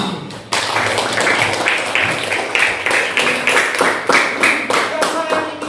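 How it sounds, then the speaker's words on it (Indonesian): A primary-school class claps for a classmate during a lesson, with sharp, rhythmic claps in close, loud bursts after a brief opening. "tepuk tangan buat Hani"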